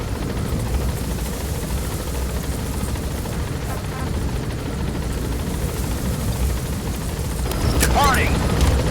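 A helicopter in the game Metal Gear Solid 5 gains altitude with a loud, steady rotor roar that swells slightly toward the end, with a voice speaking over it.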